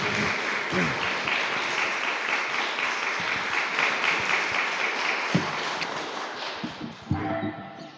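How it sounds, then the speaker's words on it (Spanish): Sustained audience applause at a parish talk before Mass, dense steady clapping from a crowd that fills the room for several seconds, with a few sharper knocks near the end as it tapers. "Muchas gracias, un fuerte aplauso."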